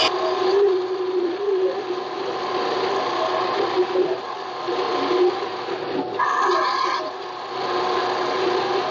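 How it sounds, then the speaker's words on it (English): A Harbor Freight mini lathe runs steadily in a workshop, a continuous whirring motor hum with a brief change in tone partway through, close and alone without talk. "this is the Harbor Freight mini lathe"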